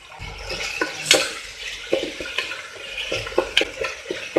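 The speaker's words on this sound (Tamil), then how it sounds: "தக்காளி லேசாக சாஃப்ட் ஆகட்டும், அது வரைக்கும் வதக்கிக்கோங்க" Tomatoes being sautéed for a vegetable masala dal khichdi, with repeated scraping and clinking strokes of a spoon against the pan in an uneven rhythm over a soft sizzle, close by with no talking.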